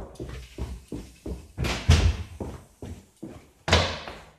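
A heavy fire door slams shut with a solid thud, among several dull knocks and bumps in a quiet indoor space, followed by another closing thump.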